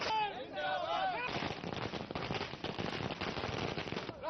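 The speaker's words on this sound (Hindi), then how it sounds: "पटाखे लोग चला रहे हैं" Firecrackers set off by a crowd celebrating the end of a 27-year drought in Sheopur district, a dense run of rapid crackling bangs and pops, loud and continuous after a brief opening of whistling voices and noise.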